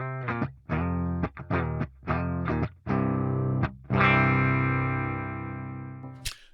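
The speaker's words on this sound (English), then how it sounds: "let me first give you a demonstration of what the clean guitar sounds like" An electric guitar played through an amp for a clean-tone demonstration, with a run of short plucked notes and chords followed by longer ringing notes that sustain and then cut off with a sharp click, close and moderately loud.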